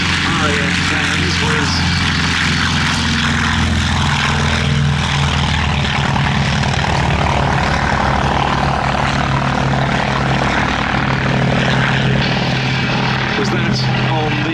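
Piston-engine propeller fighters, a Hawk 75, a Wildcat and a Hurricane I, fly at a Battle of Britain airshow at Duxford, a loud, steady droning engine roar throughout, with a commentator talking over it.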